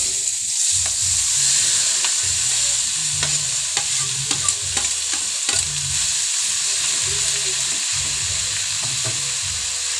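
Papaya and onions fry in a pan with a constant sizzle while a utensil stirs and scrapes in a steady rhythm, close and fairly loud.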